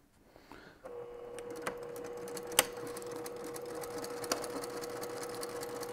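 A sewing machine stitching a quilt block starts up after a few soft handling sounds, then runs with a steady fast whirring hum, with occasional sharp clicks over the motor.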